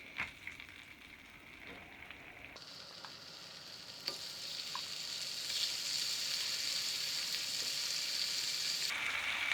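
Fish fries in sizzling butter in a pan, a steady crackling hiss that grows denser and louder over the stretch, with no talking.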